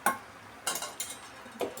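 Metal clatter of a lid set onto a pot of chicken stew with papaya and malunggay, a few sharp clanks and scrapes spaced over a second or two in a quiet kitchen.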